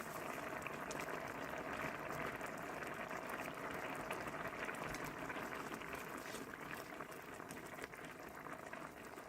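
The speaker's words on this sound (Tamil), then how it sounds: "இப்போ சேர்ந்து கொதிச்சு வந்துடுச்சு" Vegetable korma bubbling in a pot, a dense, steady simmering hiss and bubbling that holds evenly at low volume without interruption.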